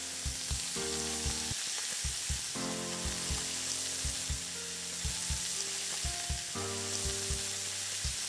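Meat searing in a hot pan on all sides produces a continuous sizzle, close and steady, overlaid with a droning tonal hum and regular rhythmic thumps throughout.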